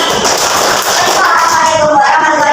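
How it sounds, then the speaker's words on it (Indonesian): Classroom clapping for a student group during a teaching session, a burst of many hands close and loud throughout the short moment, mixed with some murmuring voices. "Tepuk tangan buat kelompok lagi."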